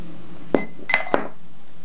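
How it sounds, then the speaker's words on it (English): A small glass dish clinks three times against a hard surface as it is handled, with short bright knocks close by and near-silence between them. "take a little glass dish and put some latex in."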